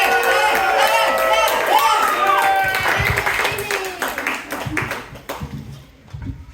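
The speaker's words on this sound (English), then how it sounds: "I'm gonna need like 1 minute, so keep clapping." A comedy festival audience in Santa Cruz applauds a comedian, with a dense patter of clapping and some cheers that thins out over a few seconds while a voice speaks over it.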